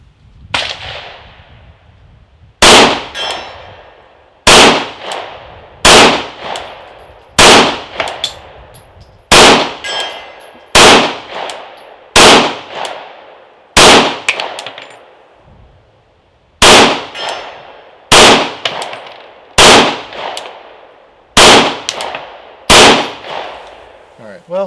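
Pistol shots from a Rex Zero 1 TC fired at a target: about thirteen loud, sharp, close cracks spaced at irregular intervals of roughly one to two seconds, each with a short ringing decay.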